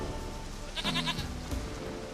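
A single goat in The Witcher 3 lets out a short, wavering bleat against a steady ambient background, followed by a brief second call.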